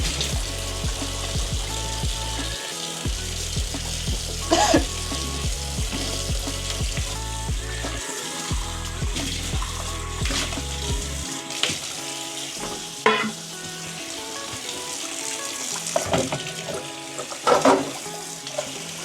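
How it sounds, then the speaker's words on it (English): Items from a dog rescue being washed by hand in a tub of soapy water, with continuous sloshing and running-water noise, splashy bursts and some low background hum. "Just refill it with fresh water and add some soap to that, and then I start washing that stuff."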